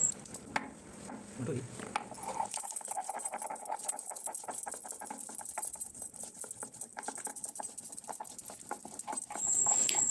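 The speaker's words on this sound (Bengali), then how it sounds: "এবার শিলনোড়ার মধ্যে আদা, জিরে, কাঁচা লঙ্কাটা বেটে নিতে হবে।" Ginger, cumin and green chili ground on a grinding stone, a close, steady patter of rapid rubbing and knocking strokes that continues throughout at moderate volume.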